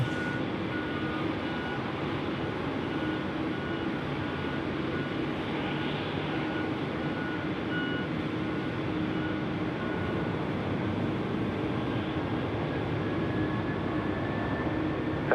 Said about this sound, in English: China Eastern is rolling runway 34 left